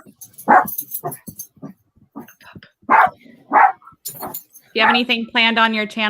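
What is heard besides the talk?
dogs barking in the house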